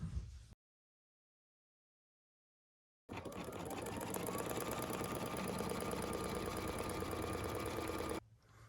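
An embroidery machine stitches an in-the-hoop cotton zipper purse, a rapid steady mechanical rattle running continuously for several seconds after a silent gap, fairly loud and close with no voices.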